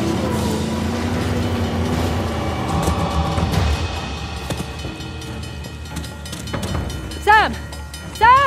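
Train running on tracks in the video game Uncharted: The Lost Legacy, a loud rumbling rush of rail noise with metallic screeches and clanks, ending in sharp squealing bursts.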